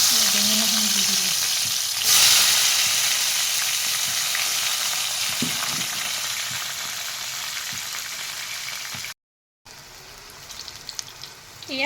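Brinjal pieces fry in refined oil in a hot wok with a loud, continuous sizzle that fades gradually. A brief cutout near the end is followed by a few light clinks and stirring sounds.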